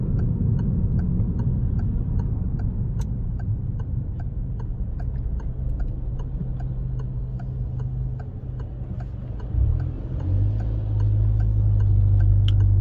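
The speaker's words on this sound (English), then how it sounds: "This section of road here is actually quite harsh, so it's quite a good test of the road noise on the car." Cabin road noise inside a Peugeot 208 GTI on a harsh, rough road surface: a steady low rumble and drone fills the whole stretch, with a faint regular ticking on top, like an indicator.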